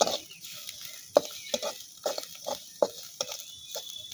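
Onions frying in a pan give a soft, faint sizzle broken by repeated sharp scrapes and taps of a spatula stirring against the pan, close and irregular, with no talking.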